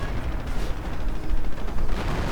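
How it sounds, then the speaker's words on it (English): Artillery barrage in a World War II strategy game pounding a Pak anti-tank gun crew: dense, continuous rumbling blasts and crackling detonations, loud and close, swelling toward the end, with no talk. "Pack gets spotted, and artillery's getting called in, and he can't move anywhere."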